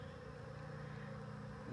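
Honeybees buzz steadily around a hive and its dry pollen feeder, a low continuous drone close to the microphone, alone for under two seconds.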